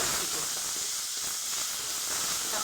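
Finely chopped tomato hits a hot pan with curry leaves while chicken masala cooks, giving a steady, loud, broad sizzling hiss throughout.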